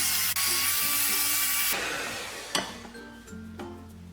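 An electric mixer beats eggs as sugar is added for a Swiss roll sponge, giving a steady, close motor whir that shifts in tone partway through, with faint clinks against the bowl.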